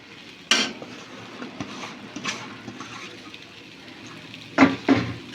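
Semolina mixed with grated coconut stirred in a pan for patishapta pitha filling, a soft, low scraping under faint sizzle, punctuated by a few sharp spoon clinks against the pan at the start and end.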